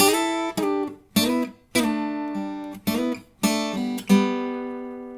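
An electric guitar lick from a guitar solo, double stops of paired notes played together, about seven distinct plucked hits in an uneven rhythm, the last one ringing out longer.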